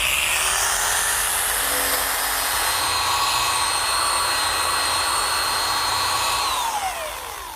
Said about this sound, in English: The jigsaw will do just as good a job.